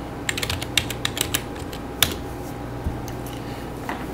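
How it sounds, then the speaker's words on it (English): Quick, irregular keystrokes on a computer keyboard as an IP address is entered, clicking in short bursts with a louder tap near the middle, close and clear with no talking. "let's go ahead and type in the IP address"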